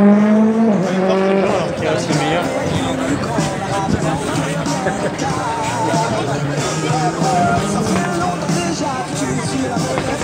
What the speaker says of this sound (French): vous attendez le passage de la voiture à damier pour pouvoir faire quelque chose